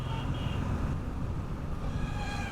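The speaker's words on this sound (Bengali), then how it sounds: "এই যে আমার সামনে বিশাল বড় একটা দানব এটা হলো সেই লরি" A large soil-hauling lorry on a main road rumbles past close by with a heavy, continuous low engine and road roar that holds steady throughout, with faint high tonal squeals over the top.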